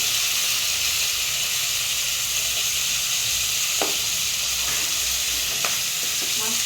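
Food fries in a hot pan with a steady, close sizzling hiss that runs throughout, broken only by a few faint clinks and stirring taps.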